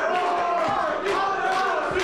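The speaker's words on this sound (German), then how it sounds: "Das Publikum feiert ihn an, das war gut." Fans at a Wrestling Switzerland event in Robbers cheer and shout steadily and loudly throughout, a dense crowd roar with rising swells.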